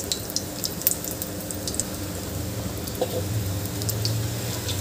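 Batata vada, besan-battered potato dumplings, deep-frying in hot oil, giving a continuous dense sizzle and bubbling hiss close up, with small crackles and no talking.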